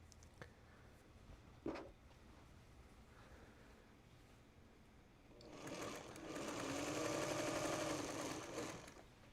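A sewing machine stitches log cabin quilt blocks, a faint thump and brief handling noise first, then a steady rapid whirring run of stitching for several seconds at close range.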